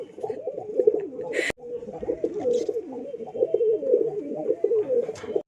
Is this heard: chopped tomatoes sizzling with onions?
no